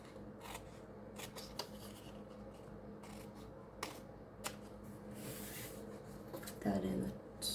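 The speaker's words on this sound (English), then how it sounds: "let's cut off this white border here" Scissors snip the white border off a page of an old children's encyclopedia, a string of short crisp cuts and paper rustles close by over a steady background hum.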